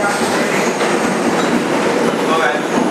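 Interior of a 2001 Bombardier subway car, #6676 on the 2 train running the IRT White Plains Road Local, with a loud, steady broadband roar of rolling wheels and rail noise filling the whole stretch.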